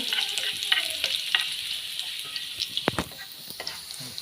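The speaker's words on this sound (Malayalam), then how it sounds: "വറവിടുകയാണ്. ഉള്ളി, കടുക്, കറിവേപ്പ്" Onion, mustard seeds and curry leaves tempering in hot oil for a green gram curry, a close, bright crackling sizzle with scattered sharp pops and spatters over a few seconds.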